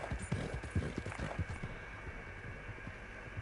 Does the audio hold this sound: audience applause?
no